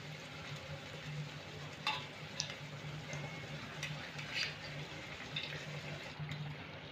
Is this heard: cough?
no